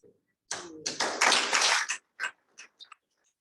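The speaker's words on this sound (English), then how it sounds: "we deserve a round of applause for having reached the stage without any clashes" A small group claps briefly at an annual general meeting, a short close burst lasting about a second and a half, then a few scattered final claps trailing off into silence.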